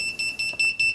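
A DRS210Pro quadcopter's high electronic beeper sounds in rapid repeated pulses, shrill and steady in pitch, close and fairly loud.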